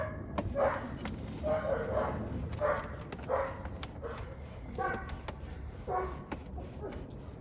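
A dog barks repeatedly somewhere away from the work area where a Mercedes CLK320 is being repaired. Single and double woofs come at uneven intervals over a steady background hum, moderately loud and not close.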